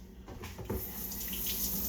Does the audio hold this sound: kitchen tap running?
yes